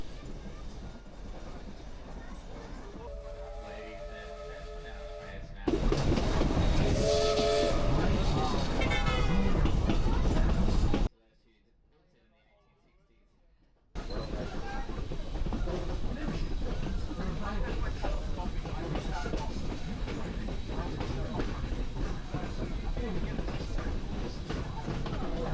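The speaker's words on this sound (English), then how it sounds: "On a steam train through the mountains" A 200-year-old steam train rumbles along its tracks through the mountains, a steady close clatter and roar with a brief squeal, a sudden quiet gap midway, then the running noise resumes at full strength.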